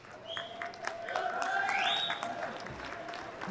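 An audience at a jiu-jitsu match claps and cheers at moderate distance, a steady wash of applause with a whistle-like tone rising through the noise.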